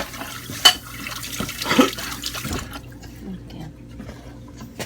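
Dishes being washed under running tap water in a home kitchen sink, with splashing and a few sharp clinks of crockery, water cutting off partway through; a brief spoken word is heard.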